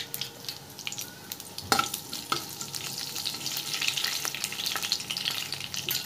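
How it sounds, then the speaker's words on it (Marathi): Cumin seeds sizzle and crackle in hot oil while sabudana khichdi is being made, giving a steady frying hiss with occasional sharp pops and stirring noises, close and fairly loud throughout. "आता तेलामध्ये आपण जिरं घालून घेऊया।"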